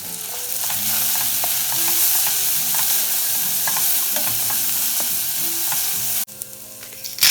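Shallots and garlic with pepper flakes sizzle loudly in a pan while being stirred, a dense continuous frying hiss with scraping strokes, then it drops off abruptly near the end, no speech.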